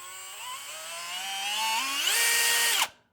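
A drill press spins a workpiece like a lathe with a steady whirring motor whine that climbs steadily in pitch as it speeds up, grows louder and harsher, then cuts off abruptly at the end.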